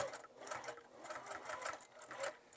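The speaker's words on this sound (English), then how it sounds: "And then I'm just going to sew across there again." A sewing machine stitches across a key chain zipper pouch, a fast steady close-up whirring chatter with a faint motor hum underneath.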